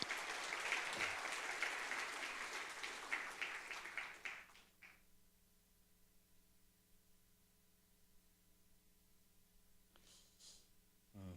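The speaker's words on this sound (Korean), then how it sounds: "우리 뜨거운 박수로 환영하며 맞이하겠습니다" A congregation at a Friday church service claps warmly for several seconds to welcome a missionary, the applause fading out before a few scattered claps return at the end.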